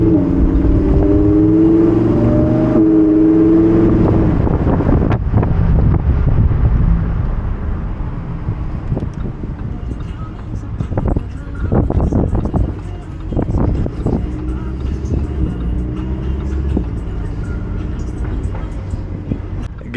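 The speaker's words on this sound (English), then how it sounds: "Now pulling off, we'll just keep the car in Strada right now, which again is street" A Lamborghini Huracan Evo Spyder in Strada street mode pulls away and drives on, its engine droning steadily with wind rush and road noise while someone talks over it throughout.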